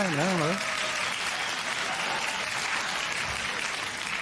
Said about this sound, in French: On donne une bonne petite main d'applaudissement.